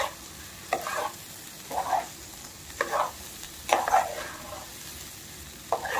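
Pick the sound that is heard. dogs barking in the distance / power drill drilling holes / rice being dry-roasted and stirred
rice being dry-roasted and stirred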